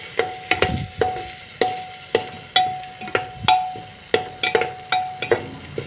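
A spatula scrapes and stirs corn kernels and cumin in melted butter in a pan for homemade popcorn, about a dozen sharp, evenly spaced strokes, close and clear over a faint sizzle.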